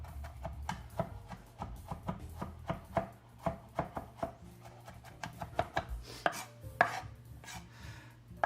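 A knife chops food on a cutting board while spaghetti marinara is being prepared, giving a rapid series of close, sharp knocks in an uneven rhythm that speeds up toward the end, with no voices.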